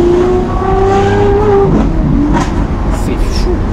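A Lamborghini Aventador SVJ engine burbles and drones loudly with uneven exhaust pops and crackles, close by, its exhaust valves sometimes failing to open, with some voice-like tones mixed in.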